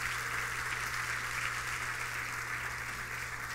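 A church congregation applauds at a Sunday service, a steady, even wash of many hands clapping at moderate distance, continuous and alone without talk.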